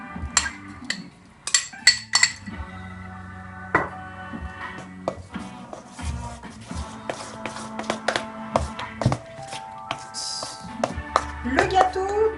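Cake batter with raisins, sugar and glucose syrup mixed by hand in a bowl for small fruit cakes, with irregular close taps, scrapes and light clinks of utensil against dish, spaced unevenly and quiet overall.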